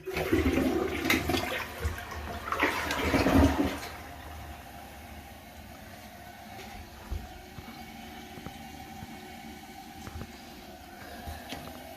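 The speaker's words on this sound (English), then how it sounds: "All right, here we go. The initial flush. Let's do the double." A newly installed toilet flushes loudly for about four seconds with a rushing gurgle of water, then the tank refills with a quieter steady hiss and trickle.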